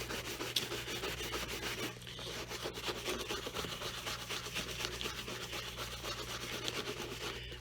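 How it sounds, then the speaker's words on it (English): Steady rubbing and brushing of wax being buffed onto the toe of an Allen Edmonds shoe, a close, continuous scrubbing texture with no talking. "And then we just buff the toe."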